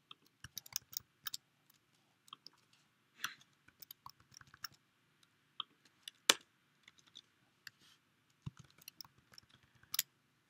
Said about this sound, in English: I'm just going to type this out